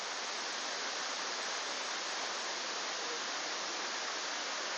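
Erawan waterfall in Thailand at its third tier, a steady broadband rush of falling water that stays even and continuous throughout with no voices.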